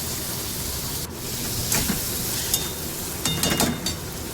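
Tomatoes cooking in a pan give off a steady sizzle and hiss, with a few scraping stir sounds near the end and no talking.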